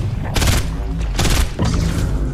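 Fortnite gunfire aimed at the lightning cube comes in dense loud bursts of rapid shots, three separated barrages with brief gaps between them, harsh and close.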